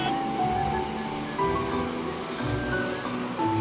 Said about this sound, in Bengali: এখানে ঢেউগুলো কম্পারেটিভলি অনেক বড় এবং পানিগুলো অনেক সুন্দর